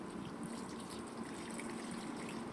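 Running tap water pours steadily in a kitchen while eggs are scrubbed and washed, making a continuous, even splashing hiss with no pauses or voices.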